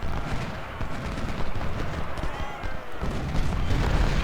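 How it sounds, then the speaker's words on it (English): Artillery cannon fire, including 10- and 20-pounder guns, in the strategy game Ultimate General: Civil War, a dense rumble of overlapping booms and crackling gunfire at mixed distances, steady and continuous with no voices. "Our 10 pounders are opening up on Foster, very good."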